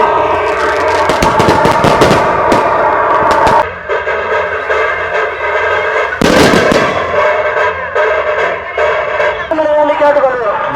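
A loud barrage of fireworks goes off at the Gangaiamman temple festival, rapid volleys of cracks and booms layered over one another, with voices mixed into the din.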